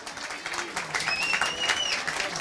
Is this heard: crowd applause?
yes